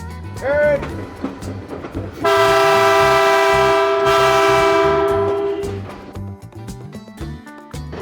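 A train horn blares loudly for several seconds over steady rumbling of a moving train; voices talk before and after it.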